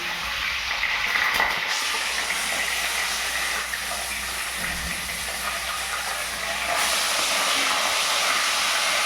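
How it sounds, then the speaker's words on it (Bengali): Pieces of fried fish sizzling in hot oil in a pan while cooking Bengali fish-head mung dal, a steady loud hiss that continues without break, with no speech. "এবার ভাজা মাছগুলো তেলের মধ্যে আমি দিয়ে দিলাম"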